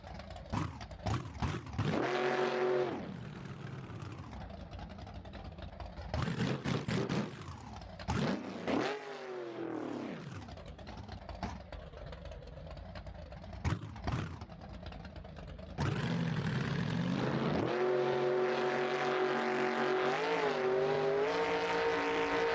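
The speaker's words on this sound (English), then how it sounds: "then you heard the nitrous come on and it started getting into a power wheelie" Tuned drag race car in the BeamNG.drive video game, running nitrous, roaring off the launch with rising engine revs, sharp shifts and long high-pitched pulls, loud and close, with the final stretch held at a steady harsh scream.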